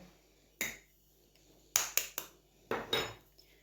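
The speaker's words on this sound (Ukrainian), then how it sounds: "Добавляю одне яйце." An egg cracked against a bowl edge and dropped into kefir for potato dumpling dough, heard as a few sharp close taps and clicks with quiet gaps between, no talking.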